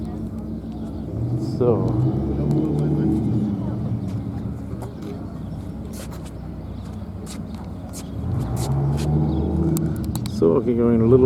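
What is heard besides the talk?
Dodge Viper car driving past at car show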